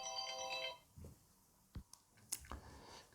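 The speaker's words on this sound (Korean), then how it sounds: "갑자기 오지 않던 벨소리가 들려가지고 죄송합니다." A mobile phone ringtone plays a short, quiet electronic melody, then stops, followed by a few faint clicks and handling noises in an otherwise quiet room.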